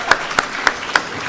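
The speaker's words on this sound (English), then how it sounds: "please give her a big round of applause" Handclaps from an audience at a class-of-1999 silver jubilee reunion, four distinct claps at an even rhythm over a short moment, moderately loud against a quiet room.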